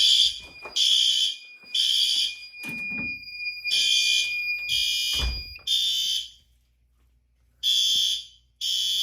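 A building fire alarm system sounds during a test with loud, shrill electronic bursts in an irregular on-off pattern, with short gaps and a few low thumps between blasts.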